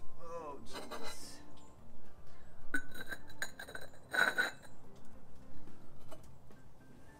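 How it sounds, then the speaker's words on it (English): Glazed pottery clatters and crashes into a trash can in a few sharp bursts of breaking and clinking, heard under a person talking in a kiln-unloading workspace. "if you hear a bunch of crashing in the background, it's me throwing stuff in the trash can"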